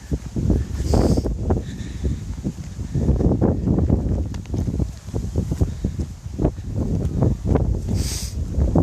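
Wind gusting outdoors during a countryside walk, buffeting the microphone in loud, uneven rumbling bursts with rustling that rises and falls, alone with no voices.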